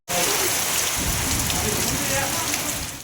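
Steady rain falls without pause on a village outdoor cooking spot, a dense, even hiss that holds at the same level throughout with no talking over it.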